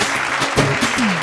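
Loud, dense applause from a stage show audience at a dance and acting competition finale, continuous and close, with a few raised voices and cheers rising through it.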